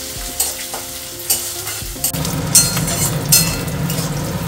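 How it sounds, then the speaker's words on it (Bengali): Salted dried fish (shutki) fries in hot oil for a shutki bhorta, a spatula scraping and stirring in close, loud strokes while the sizzle swells noticeably partway through; no one speaks. "এবার একটু তেলে ভেজে নেবো এটাকে।"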